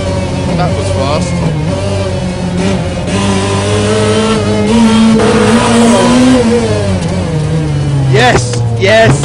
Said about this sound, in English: And you can just hear the supercharger.